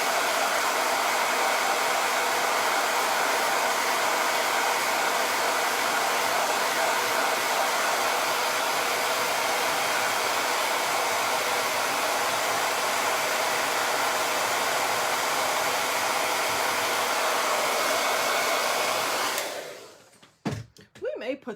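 A hair dryer blows steadily and loudly on a transfer design to dry it, a constant close roar for about twenty seconds before it cuts off abruptly, followed by brief handling noises.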